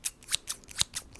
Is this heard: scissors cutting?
yes